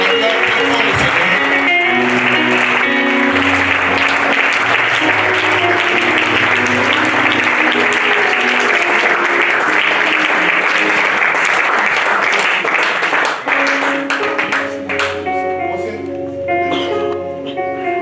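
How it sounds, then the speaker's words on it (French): A church congregation claps and cheers in sustained loud applause to acclaim the Lord, with voices and music mixed in before the clapping thins out near the end. "On va acclamer le Seigneur."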